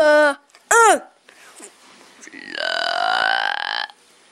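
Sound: burp

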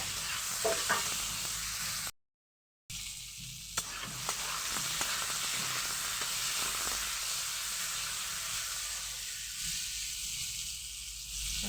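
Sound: frying amla pickle with turmeric in a pan

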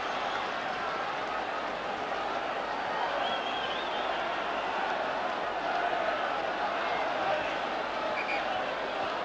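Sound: rugby league match crowd cheering

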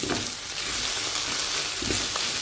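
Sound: stirring and frying egg with vegetables in a pan

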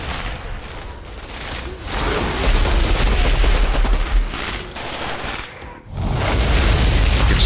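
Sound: grenade explosions in the video game Outriders

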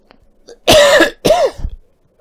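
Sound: cough

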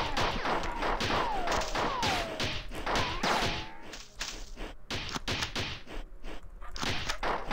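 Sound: enemy bombardment gunfire in Marathon video game

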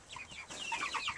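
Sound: chicken clucking

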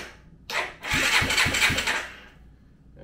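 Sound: ATV engine starting

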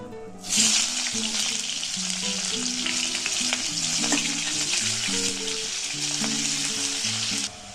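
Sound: onion frying in a pan

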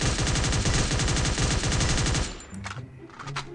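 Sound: G36 rifle gunshots from a video game

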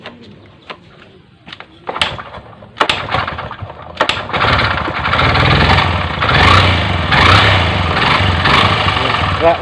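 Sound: Honda CB125 motorcycle engine running after starting

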